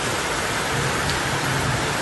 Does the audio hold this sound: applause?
no